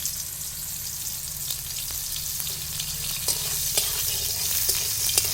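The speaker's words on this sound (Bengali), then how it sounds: "এখন আমি উচ্ছেটা ভেজে নেব।" Bitter gourd fries in hot oil for shukto, giving a steady, close sizzle and crackle with occasional stirring clicks from a spatula, and no one speaking.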